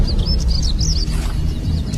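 Songbirds chirp in quick, warbling bursts on an island migration rest stop at dawn, sitting clearly above a constant low rumbling background that lasts the whole stretch.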